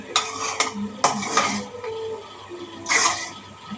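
A metal spoon scrapes and clinks against a pan while egg fried rice with pepper powder is stirred, several sharp close knocks and scrapes spaced irregularly with quiet gaps between.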